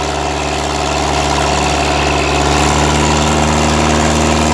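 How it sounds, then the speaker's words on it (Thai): An engine-driven water pump drones continuously at close range at a shrimp pond, a steady vibrating engine hum with no breaks or talking. "เสียงเครื่องเขาดูดน้ำครับ"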